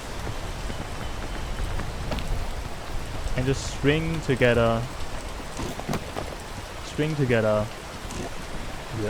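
Rain falls steadily during a mountain climb, a constant close hiss of drops with a person speaking briefly twice over it.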